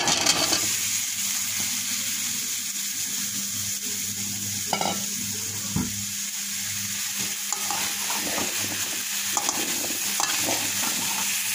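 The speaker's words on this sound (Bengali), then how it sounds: "এখন এই কচুর লতিগুলো কড়াইতে দিয়ে দেবো।" Taro stolons tipped into a wok that had been used for frying shrimp sizzle steadily while being stirred, with close scraping of the stirring utensil and a few sharper clanks over continuous frying noise.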